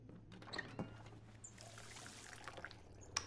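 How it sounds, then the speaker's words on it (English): Water poured into a cup in the video game 12 Minutes: a soft, quiet trickle over a low steady hum, with small clinks near the start and end and no talk. "Fill cup with water."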